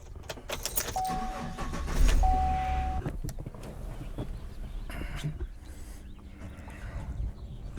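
Keys jangle, then a car engine cranks and starts up nearby, settling into a low idle rumble.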